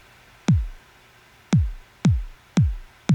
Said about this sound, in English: Very punchy, a lot of high overtones.